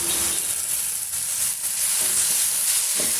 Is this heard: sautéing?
yes